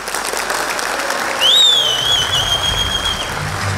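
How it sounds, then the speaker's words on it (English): An audience applauds at a school cultural day, a steady wash of clapping from a crowd filling the room, with a faint electronic tone rising briefly over it. "Huge round of applause for serving O's."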